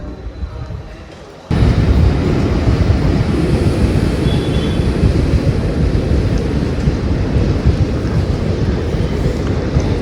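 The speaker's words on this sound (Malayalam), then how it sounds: "ഏറനാട് എക്സ്പ്രസ് ആണ് ഇപ്പം തിരൂരെത്തിയത്" Eranad Express pulling into Tirur railway station behind a P4 locomotive, a loud sustained rumble that bursts in after a quieter moment and rolls on steadily, close and heavy, with no talk.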